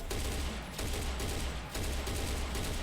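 Dense, continuous enemy gunfire fills a Serious Sam Fusion battle, a loud rolling fusillade of rapid shots with brief dips in intensity and no talking.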